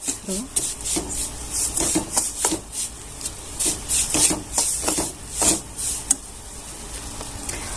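Semolina being dry-roasted and stirred in a pan over low gas for modaks, heard as repeated close scraping and rubbing strokes of a spoon against the pan in an uneven rhythm, with a faint sizzle underneath.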